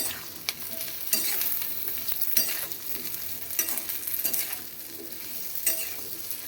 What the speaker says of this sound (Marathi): भेंडी टाकल्याच्या नंतर मीठ टाकायचं आहे परतून घ्यायची आहे